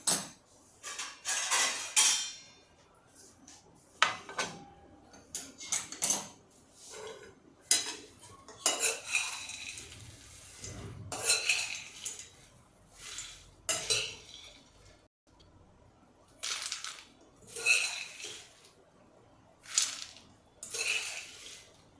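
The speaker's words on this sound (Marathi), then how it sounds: "थोडासा चिवडा प्लेटमध्ये काढून तुम्हाला दाखवते" Puffed wheat chivda is served onto a plate in a series of close, rattling bursts of dry flakes and spoon clinks against metal and crockery, separated by short pauses.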